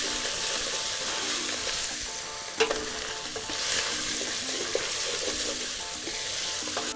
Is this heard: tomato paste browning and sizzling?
yes